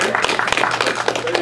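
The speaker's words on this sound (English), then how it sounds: "give her a round of applause" An outdoor crowd at a potato festival tractor show applauds a young junior queen, many hands clapping in a busy, crackling burst with some voices talking underneath.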